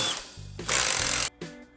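Power tools work loose the bolts on the oil filter housing of a frame-damaged BMW F30, a close buzzing whir in a short burst, then a brief mechanical clatter.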